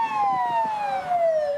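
Emergency vehicle siren from an ambulance on the M1 after a crash, a loud wailing tone sliding steadily downward in pitch, heard close with no talk.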